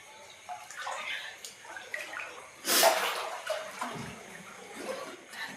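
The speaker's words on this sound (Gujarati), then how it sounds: "અહીંયા હું ગોઠણે પાણીમાં છું" Knee-deep floodwater sloshes inside a house flooded by unusually heavy rain, with the kitchen soaked. The movement is faint and low, with one louder splash near the middle.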